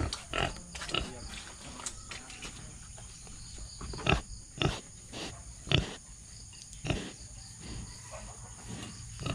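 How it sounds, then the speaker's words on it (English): Pig in a rural Philippine province setting giving short, low grunts in irregular bursts, several close snorting pulses spaced a second or so apart, with a faint steady insect-like hum in the background. "Alright, I'm gonna go rub the belly of this pig."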